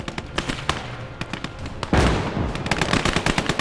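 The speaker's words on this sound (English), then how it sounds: "we're taking fire" Gunfire in the World War II Eastern Front strategy game Call to Arms: Gates of Hell, rapid irregular rifle and machine-gun bursts crackling throughout, with a heavier burst of fire midway.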